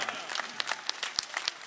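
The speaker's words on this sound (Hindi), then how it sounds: "मोहन यादव जी के लिए जोरदार तालियां, शानदार तालियां," Applause for Mohan Yadav at a BJP political stage event, a dense crowd clapping steadily with sharp individual claps standing out, loud and continuous throughout.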